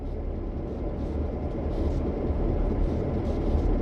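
A diesel locomotive in Train Sim World 3 rumbles steadily, a low continuous engine drone that swells slightly, with no talking.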